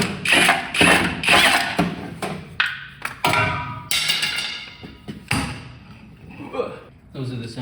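A ratchet with a shallow socket working bolts loose on a 1971 Pontiac GTO 455 under restoration, heard as a close series of rapid clicking bursts and metallic clanks in an irregular stop-start rhythm.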